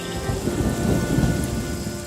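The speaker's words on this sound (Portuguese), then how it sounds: "Eu mando chuva quando vocês precisam." Thunderstorm with heavy rain, a steady dense hiss of rainfall on surfaces beneath a low rolling rumble of thunder, loud and continuous with no voices.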